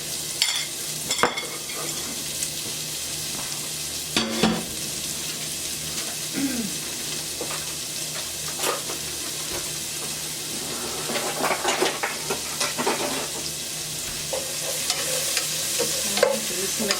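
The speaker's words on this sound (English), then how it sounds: "So I'm going to add this to the pot, and I'm going to saute these for a couple of minutes." Celery and other vegetables sauteing in a pot while being stirred for Thanksgiving dinner, a steady close sizzle with scattered utensil scrapes and clinks throughout and no talking.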